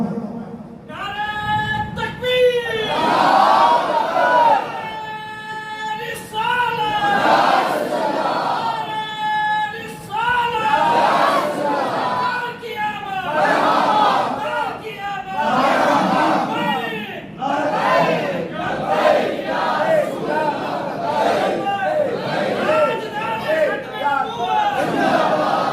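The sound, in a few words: crowd chanting slogan in response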